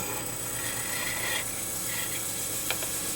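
Hand sanding of a knife blade with 1000 grit paper, a steady, smooth rasping rub that continues evenly at close range, with a brief brighter scrape near the end and no talking.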